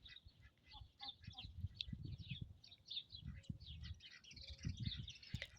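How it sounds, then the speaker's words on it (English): Ducks and chickens on a pygmy goat farm outdoors, faint quacks and chirpy bird calls scattered over soft low rustling and distant ambient noise. "watch the ducks and the chickens find their way back in."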